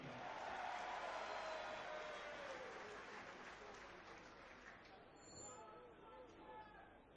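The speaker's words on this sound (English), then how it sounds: "We've had a cheer from the crowd." Rugby crowd at Leeds v Newcastle Falcons cheering and applauding from a distance in the stands, swelling early and then slowly fading, with a voice talking faintly over it.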